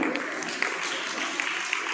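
A crowd at a karate competition claps steadily and moderately loudly, with a few sharper individual claps standing out and voices faintly audible underneath.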